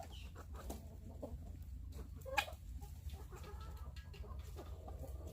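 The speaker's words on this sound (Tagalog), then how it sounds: "This is our male turkey." A male turkey calls on a Texas farm on a foggy, chilly morning, giving low clucking sounds and one sharper burst over quiet outdoor background noise.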